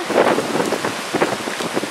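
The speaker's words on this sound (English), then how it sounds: "the wind is whipping and the rain is starting" Hurricane Sandy arriving at a house with a pond, wind gusting and rain falling in a steady, loud, close broadband rush with surging gusts and no voices.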